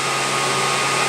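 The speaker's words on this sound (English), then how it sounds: "That's the wire sharp function on this nice Thermodyne Fabricator 252." A brief, loud burst of air hisses from the wire-sharp function of a Thermodyne Fabricator 252 welder as welding stops, a steady broadband puff lasting about a second.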